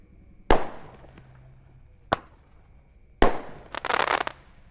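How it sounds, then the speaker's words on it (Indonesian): Firecrackers and fireworks go off at night. Three sharp, loud bangs come at uneven gaps, and the last bursts into a dense crackling flurry, with no talking. "Oke teman, terima kasih sudah mengikuti menyalakan banyak sekali mercon dan petasan"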